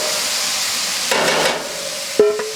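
Chicken frying in a skillet, a steady sizzling hiss with scraping from a utensil moving the pieces around, and a couple of sharp knocks against the pan near the end.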